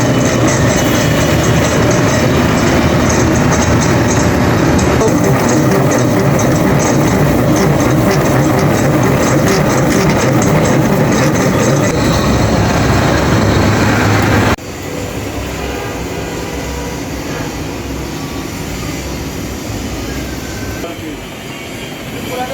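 A nine-gear geared drilling machine bores a hole in a factory, its steady heavy mechanical drone loud and continuous, dropping to a slightly quieter running hum about two-thirds through.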